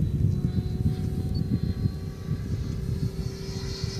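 A 1.7 m JTM Viper radio-control jet's turbine engine running at less than half throttle, a steady droning whine with low rumble, fairly close and continuous without talk.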